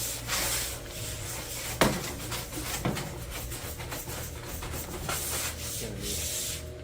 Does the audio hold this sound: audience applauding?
no